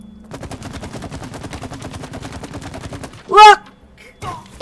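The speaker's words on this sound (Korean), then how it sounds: "이게 연쇄 폭발이 되거든요, 연쇄 폭발" Chain explosion in the video game It Takes Two: a rapid, steady string of sharp blasts crackles for about three seconds, then a short voice and a quieter burst follow.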